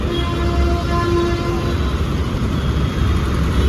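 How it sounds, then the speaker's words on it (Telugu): A Hyderabad metro train passes near Uppal station with a steady, continuous rumble and faint tonal whine that hold at an even, fairly loud level throughout. "వెళ్తుంది మెట్రో."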